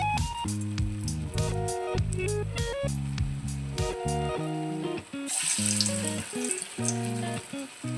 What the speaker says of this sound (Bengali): এইভাবে লাল লাল করে ভেজে নিচ্ছি কোপ্তাগুলো